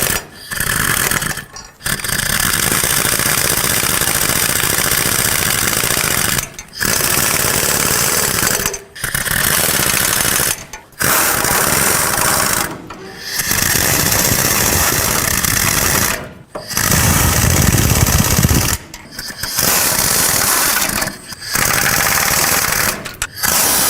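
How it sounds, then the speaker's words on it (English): A pneumatic air impact gun tightens wheel bolts in a loud, rattling burst that runs steadily for several seconds at a time, with short gaps between bolts. It is close and continuous, and there is no talk over it. "I'm just going to use my air gun and tighten them up"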